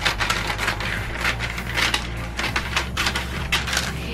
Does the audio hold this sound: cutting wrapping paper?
yes